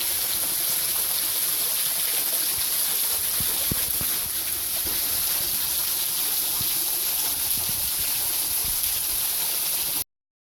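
A waterfall close by, giving off a continuous, loud, broad hissing rush of falling water that holds steady throughout before ending abruptly.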